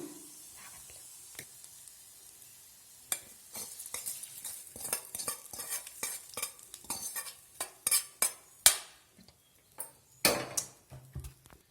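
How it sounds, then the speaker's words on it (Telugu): A spoon stirs a ground tempering into brinjal bajji curry, with scattered metallic clinks and scrapes against the pan growing louder and more frequent, then a soft sizzle, and no talking. "ఈ పోపుని ఇందులోకి వేసుకున్నాం కదండి ఓసారి కలుపుకుందాము"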